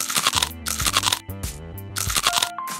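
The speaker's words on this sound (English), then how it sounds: "A little crunch, a lot of crisp." Biting into a crispy hot honey Cajun chicken wing at Gypsy Parlor produces a series of loud, close crunches in short bursts, set against busy background sound.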